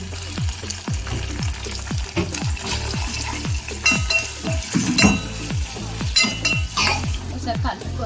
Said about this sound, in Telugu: ఆనియన్స్, పచ్చిమిర్చి అన్నీ వేసుకున్న తర్వాత ఒకసారి కలుపుకుందాం